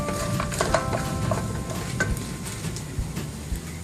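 Eggs with broccoli, carrots and squash sizzling and being stirred in a hot pan for fried rice, a close crackle with scraping utensil clicks and scattered taps over a continuous fry.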